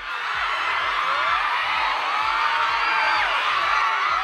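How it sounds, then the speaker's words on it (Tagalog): Fans scream and cheer loudly and continuously in a mall atrium as Charlie greets the crowd by shaking hands, a dense wall of high-pitched shrieks with no pauses. "Nilanog sa atrium ang singgit sa fans dihang nakiglamano si Charlie sa crowd."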